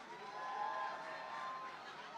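An audience applauds and cheers for panel members coming on stage at a summit event, a steady dense wash of clapping sustained throughout at moderate loudness.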